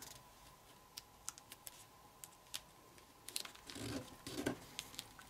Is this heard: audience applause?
no